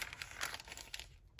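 Tea-dyed wrapping paper is crinkled by hand in a quiet room, a few soft, brief crackling bursts close by with no talking.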